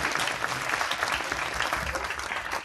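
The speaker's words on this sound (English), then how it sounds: "I want you to give them one more round of applause before we go out into you" Audience at a film premiere cast and crew Q&A giving a round of applause, a continuous wash of clapping from a sizable crowd, moderately loud and unbroken.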